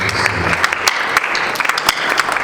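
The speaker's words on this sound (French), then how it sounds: "Acclamons très fort le Seigneur" A church congregation at a retreat claps loudly and continuously, a dense, steady wash of many hands with no talking.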